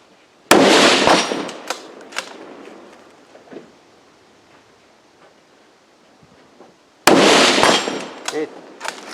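Rifle gunshots on a stage of the Finnish Brutality 2020 shooting competition: two sharp, loud shots several seconds apart, each followed by a decaying echo, with faint movement and distant voices between.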